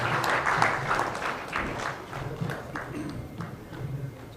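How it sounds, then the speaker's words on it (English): Applause from an audience for a panel of speakers at an official event, sustained clapping from many hands that swells early and then gradually thins, with some low murmuring beneath. "A final round of applause, please, to our great panelists."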